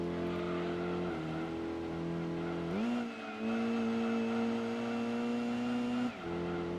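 A Mazda RX-7 race car engine in the video game Gran Turismo 2, a loud steady high drone that shifts pitch as it climbs and drops through gears, with no talking.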